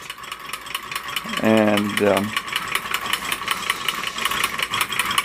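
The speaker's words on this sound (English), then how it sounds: "This is a Reichelt twin cylinder hot air engine that I recently purchased." A Reichelt twin-cylinder hot air engine runs with a fast, regular mechanical ticking and clatter up close, while someone talks briefly over it.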